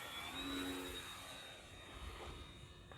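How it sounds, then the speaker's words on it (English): A Dynam Focke-Wulf Fw 190 1.3 m RC warbird model with landing gear down makes a high-speed pass at full throttle, its steady electric whine fairly faint and distant under outdoor wind noise. "Usually don't see a warbird going by on a high-speed pass with the landing gear down like that."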